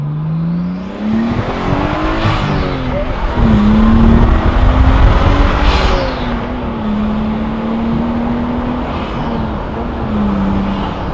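A modified Nissan Skyline R32 drives off and accelerates, its engine note climbing and falling through gear changes, loud and continuous, with a surge of power around the middle and a steady cruise afterward.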